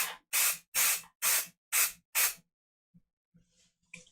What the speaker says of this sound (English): I'm going to use a little bit of 505 spray, right? Temporary adhesive. And I'm going to lightly spray the back of this hoop